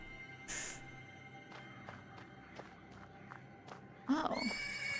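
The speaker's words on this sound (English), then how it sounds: "The persistent neighing of a horse can be heard from the stables." A horse neighs twice from the stables in the Black Book video game: a brief whinny near the start, then a louder, more agitated neigh near the end, with soft hoof thuds and steps between.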